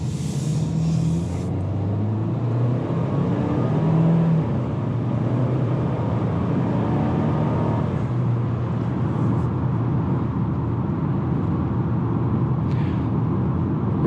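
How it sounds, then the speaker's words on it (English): A 2020 Volvo XC40 accelerates along the road, giving a steady, moderate engine and road hum with tire rumble that stays fairly quiet and even throughout, with no voices. "Really nice acceleration. It's a nice cruising vehicle. It's not that loud."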